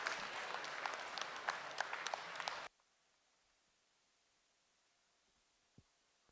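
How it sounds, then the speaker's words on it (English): A crowd at a junior breeding sheep show claps for the four finalists, a brisk round of applause that cuts off abruptly, leaving near silence with a single faint knock. "Let's give these four a nice round of applause"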